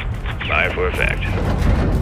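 An artillery strike in Call of Duty: Modern Warfare II lands as a heavy, continuous low rumble for about two seconds, with radio-style voices talking over it.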